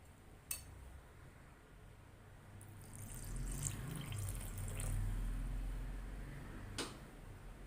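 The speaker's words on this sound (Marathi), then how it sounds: "अजून थोडं पाणी घालायला लागेल" Water is added to fasting amboli batter for mixing: a soft trickle that swells into a fuller pour midway, with a couple of faint clicks at either end.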